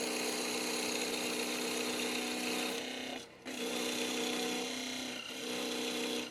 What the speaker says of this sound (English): the first cut we're going to make is just a simple parting cut to square up this end face